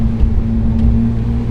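A Porsche 911 GT3 RS drives a bumpy Swiss road, its engine holding a loud, steady drone with a rough low rumble and wind buffeting. The sound runs continuously for the short stretch.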